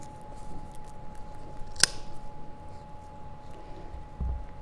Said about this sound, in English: I'm going to use my rotary tool, my rotary punch,